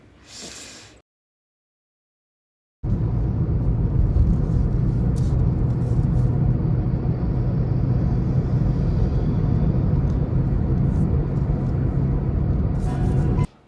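Heavy, continuous low rumble of Kolkata traffic idling and moving near a road signal, loud and close, after a short silent gap.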